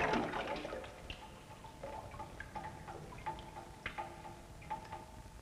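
Simulated rain from a rain tower patters onto soil, a soft, irregular scatter of drips and droplet ticks, a heavier splash at the start and then quieter, steady dripping heard faintly up close.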